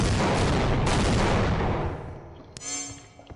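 A loud explosion in the video game Half-Life: Opposing Force hits as a heavy, rumbling blast that fades over about two seconds, followed by a few faint metallic clanks and debris sounds.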